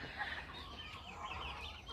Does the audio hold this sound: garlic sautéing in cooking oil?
no